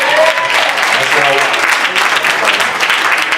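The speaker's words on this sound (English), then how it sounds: "If you're happy and you know it, clap your hands." Dense, steady clapping from a church congregation, loud and continuous throughout with no pauses.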